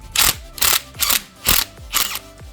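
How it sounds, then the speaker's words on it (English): Impact wrench fitted with an 18mm socket spinning a nut off a 2013 Nissan Altima 2.5L engine mount, heard as five close, loud rattling bursts, each about a third of a second, in a steady rhythm. "we'll use our impact wrench with the 18mm socket to take this nut out just like so"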